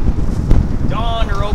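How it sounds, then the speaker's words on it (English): Low, rumbling winter wind on a fishing pier buffets the microphone in steady gusts, with a brief voice-like whine toward the end. "It's cold, it's windy"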